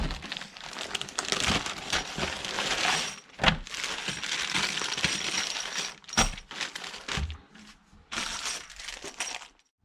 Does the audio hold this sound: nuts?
yes